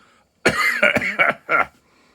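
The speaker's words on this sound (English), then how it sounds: "I'm just about to cough because I've been breathing it in." A short fit of four or five raspy coughs in quick succession, loud and close, with no talking.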